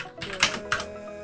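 Keystrokes on a Xenics Titan Mark V mechanical keyboard, a few close, clicky presses spaced unevenly in a quiet room.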